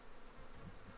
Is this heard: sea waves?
no